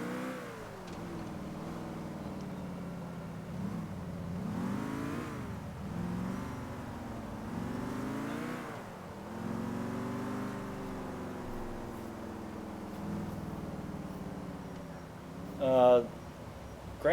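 Muscle car engine in GTA IV droning and revving as it drives, rising and falling in pitch through gear changes, steady under someone talking over it.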